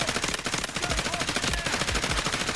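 Rapid bursts of gunfire from the Delta Force shooter video game, dense automatic volleys with repeated low thumps of nearby shots, loud and continuous throughout.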